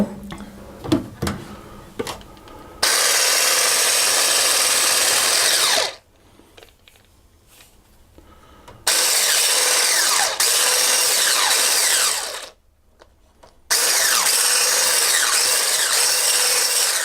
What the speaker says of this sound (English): So then I'll go back to the whisk, and we'll just whisk that together.